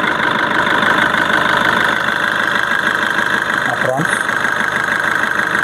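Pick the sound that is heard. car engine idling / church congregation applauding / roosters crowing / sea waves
car engine idling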